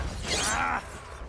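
Bombarda spell in Hogwarts Legacy going off as a short, loud crunching blast with a shattering, grinding texture that fades within a second.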